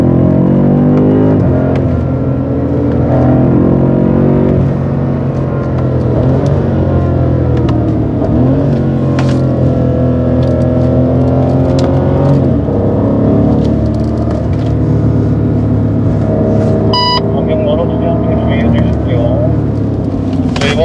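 A BMW M5 Competition accelerates on a driving-centre track, its engine a loud, continuous in-cabin drone that rises and shifts pitch through gear changes, with a brief high chirp near the end.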